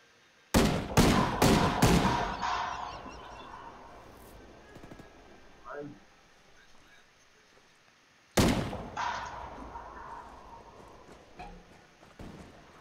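Rapid gunfire in Ghost Recon Wildlands, with a quick burst of sharp shots early on, scattered echoing reports and a faint tone, then a second loud burst later; no speech is heard.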